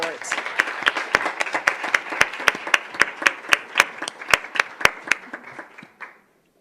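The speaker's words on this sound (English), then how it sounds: "So if we can give them a round of applause for their support." Audience members at a school district governing board meeting clap in a short round, with sharp individual claps standing out near the mic before the applause tapers off and stops.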